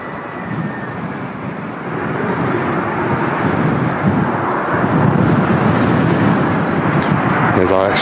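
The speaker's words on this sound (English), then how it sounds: "Gosh, that wind is picking up though." Strong gusty wind buffets the microphone at Manchester Airport, a loud, steady broadband rush that swells after the first two seconds and continues throughout, with faint engine-like hum beneath and brief speech-like traces.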